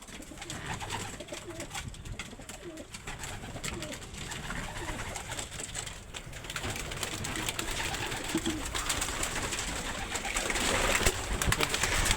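Racing pigeons coo repeatedly at the nest, where a hen sits over two chicks. The low throaty calls sound close and continuous over a rustling loft background that grows louder toward the end.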